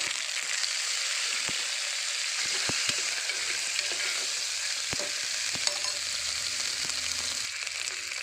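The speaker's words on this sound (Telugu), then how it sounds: "ఒక్క నిమిషం పాటు ఫ్రై చేసుకుందాం" Ginger-garlic paste, fenugreek seeds and green chillies fry in a pan with a steady, close, dense sizzle, and a few sharp clicks and taps sound over it, with no talking.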